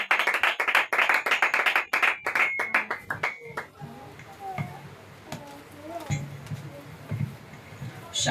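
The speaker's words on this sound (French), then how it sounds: "Acclamons le Seigneur Jésus" A church congregation at a French-language Sunday service claps hands, starting with loud, rapid rhythmic clapping mixed with voices that fades after a few seconds into quieter murmuring and scattered sounds.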